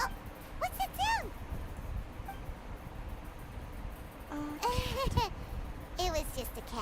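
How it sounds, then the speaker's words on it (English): A cat in the video game Genshin Impact gives a few short, rising and falling mews, spaced apart over soft background ambience. "It was just a cat."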